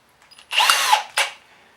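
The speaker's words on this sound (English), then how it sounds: "take our drill and use the provided drill bit" Power drill with its provided bit boring into a thin brass lock core housing held in a vise, two close, loud bursts of whirring: one longer run and then a short second pulse.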